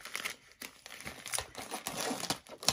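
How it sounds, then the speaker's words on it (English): A mail package is ripped open at close range, a series of bursts of crinkling and tearing paper or plastic, with no one speaking. "And then rip it open."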